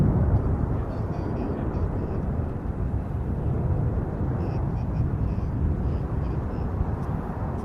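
Aerobatic team aircraft flying in formation at the Royal International Air Tattoo give off a loud, continuous broad roar that stays steady the whole time, with a voice talking faintly underneath.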